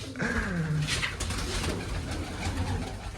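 Pigeons coo in low, throaty bursts close by, with a soft rustling background and no talking.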